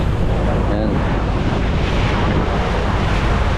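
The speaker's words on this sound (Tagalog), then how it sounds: "ang ating alon ay galing po sa parting kaliwa, kanan" Wind and sea noise roar together out on the open water aboard a boat, a loud, dense, unbroken wash of rumble and hiss lasting the whole moment, with no clear voices.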